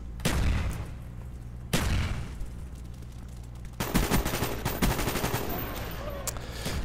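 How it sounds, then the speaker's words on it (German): Gunfire in Call of Duty: Black Ops aimed at a tower: two heavy single shots, then a rapid burst of closely spaced rounds, loud and near. "Den Turm aber mal versuchen abzuknallen."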